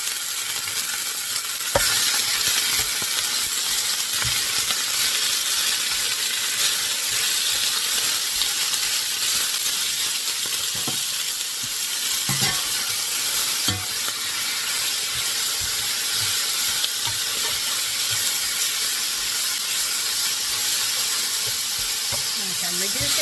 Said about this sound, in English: let's brown this pork up first